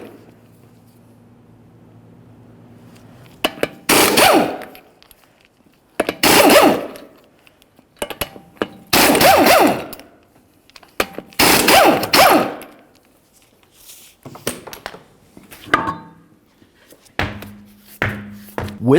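An impact wrench or hand tools remove five 21mm lug nuts and then the wheel from a 2003-2011 Mercury Grand Marquis, heard as several loud, separate rattling bursts with clunks between them and no talk.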